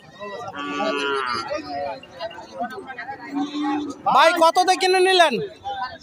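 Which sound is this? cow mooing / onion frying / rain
cow mooing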